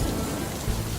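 Rain patters densely and evenly on a surface, a steady wash of close drops with a low rumble underneath, no voices.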